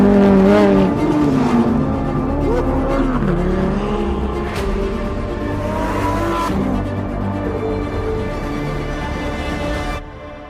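Lamborghini Huracán Sterrato drifting on a rally-style surface in California, its engine revving and wailing with tire squeal and skidding, loud and close, easing to a steadier drone before cutting off near the end.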